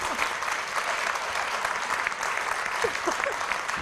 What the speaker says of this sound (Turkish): alkışlarla gönderiyoruz sizi.